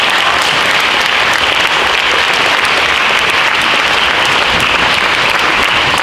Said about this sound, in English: So I think you can give yourselves a round of applause.